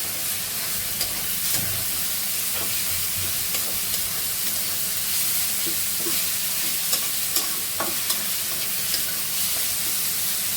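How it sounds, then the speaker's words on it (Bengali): Steady sizzling of onion and garlic frying in a pan, with scattered soft clicks and scrapes of stirring, no voices. "পেঁয়াজ আর রসুন একটু ভেজে নেব ভালো করে"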